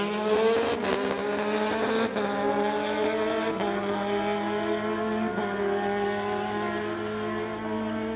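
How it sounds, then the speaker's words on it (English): A pair of Kawasaki ZX-10R motorcycles scream down a street-legal drag strip, their high-revving engines climbing in pitch and dropping at each quick gear shift, loud and continuous. "He's racing the ZX-10R, going against Ralph Stew from Delta in the ZX-19. Pair of Kawasaki's."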